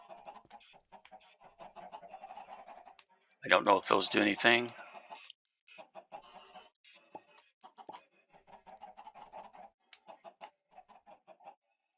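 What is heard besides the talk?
chickens clucking in video game FTB StoneBlock 3 (Minecraft)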